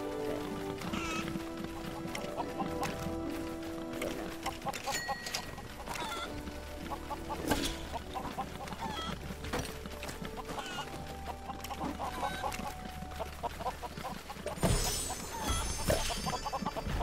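Chickens clucking inside the LEGO Worlds video game, mixed into a dense bed of game music and effects that runs steadily throughout, with a brighter burst near the end.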